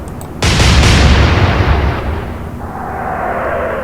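Warship main guns fire in the naval strategy game Atlantic Fleet, a single loud booming salvo that erupts suddenly and rolls off into a long fading rumble.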